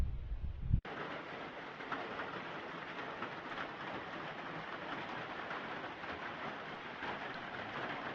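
Steady broadband rain hiss falls around an Appalachian Trail shelter, continuous and even for the whole stretch after a brief low rumble at the start, with no talking.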